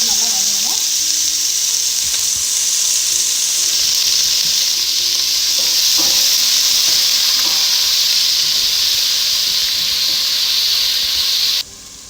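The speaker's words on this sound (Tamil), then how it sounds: "நான் கட் பண்ணி வச்சுருக்கேன் ஆனியன் போட போகிறேன்." Sliced onion sautéing in hot oil for a chicken gravy makes a loud, continuous, close-up sizzle that holds steady for the whole stretch and then drops off sharply at the very end.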